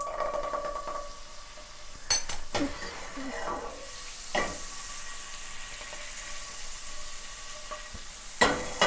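Butter melting with salmon marinade in a pan over medium-high heat, a steady sizzle and hiss with a few sharp utensil clinks against the pan.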